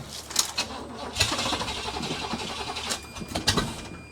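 A ramp truck engine with a newly fitted alternator and a jump pack attached cranks in quick uneven bursts and then catches, close and moderately loud.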